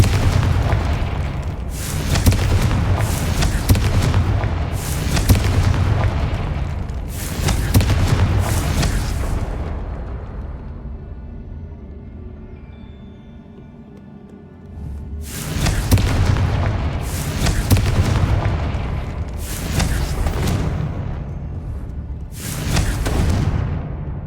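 Confringo blasting spells in the video game Hogwarts Legacy fire a rapid series of loud, booming explosions, with a brief quieter lull midway, then more bursts, and no talking.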